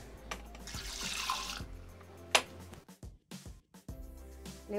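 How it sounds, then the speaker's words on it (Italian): Milk pours into a Thermomix TM6 bowl while making a lemon cake, a soft liquid splash and gurgle over the first seconds, then a sharp clink and scattered faint knocks and handling sounds. "Aggiungiamo adesso il latte"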